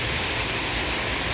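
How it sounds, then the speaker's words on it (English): Heavy rain pours down during a New York City thunderstorm, a dense, steady hiss that stays constant and fairly loud throughout the short stretch, with no voices. "See, this rain is really coming down."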